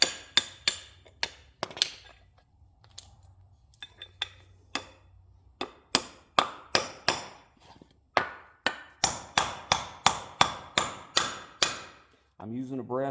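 Brass hammer striking and driving out worn equalizer bushings on a utility trailer, a long run of sharp metallic blows in uneven bursts, close and loud, with brief quieter gaps between strikes.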